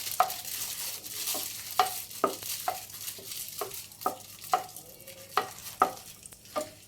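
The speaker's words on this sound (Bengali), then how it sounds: "উপকরণগুলো আমি একসাথে ভেজে নিচ্ছি।" Cashews and raisins fry together in ghee in a pan, a gentle sizzle punctuated by a steady run of sharp clicking stirs of a spoon against the metal.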